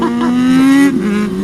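A Japanese classic sport bike, a Suzuki SRAD, revs loudly and close, its buzzy engine note climbing steadily for under a second before dropping back to a rough idle.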